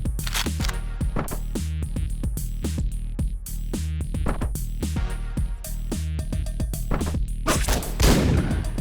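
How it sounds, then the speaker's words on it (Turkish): Shotgun blasts in the video game Hotline Miami go off in rapid, loud volleys over dense, pounding game music, with thumping impacts that run through the whole stretch. "Adam güdümlü pompalı mermisi atıyor."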